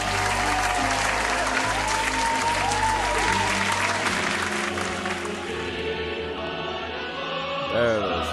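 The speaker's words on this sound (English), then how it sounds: "I want you guys to have a round of applause and a pat in the back." Sustained round of clapping and cheering from a small group, dense and loud throughout, with voices calling out over it before it thins near the end.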